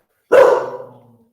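A puppy outside gives a single sharp bark, loud and close, that fades off quickly.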